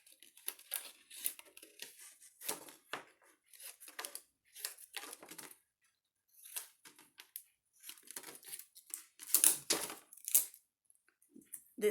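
Strong adhesive tape handled while making bookmarks, with bursts of crinkly tearing and sticky peeling noises in uneven clusters separated by short pauses, close and fairly quiet.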